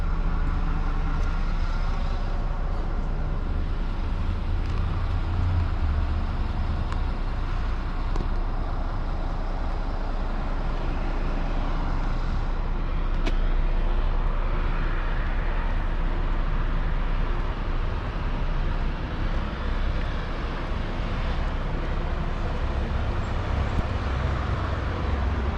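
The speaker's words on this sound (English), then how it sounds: "So yeah, nice smooth bus. Not the quickest one on the hills, but she goes alright." A M.A.N urban bus on a charter run from Roslyn to Dunedin City drives steadily, its engine drone and road rumble continuous and close throughout, with no talk over it.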